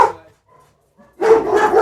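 Several dogs bark loudly in a burst of overlapping yaps and woofs close by, after a brief quieter stretch with faint barks.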